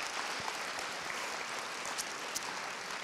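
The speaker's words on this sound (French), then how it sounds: "Merci, vous pouvez vous applaudir." An audience at a film masterclass applauds at a moderate distance, with a dense, even patter of clapping that holds steady for a few seconds, a few sharper claps standing out.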